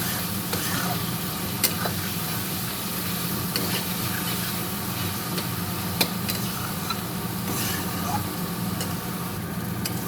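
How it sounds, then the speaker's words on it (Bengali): Spice masala with turmeric and salt is sautéed and stirred in a pan, giving a steady low sizzle under faint scraping and a few sharp utensil ticks. "মশলাটাকে আমি ভালো করে কষিয়ে নেব।"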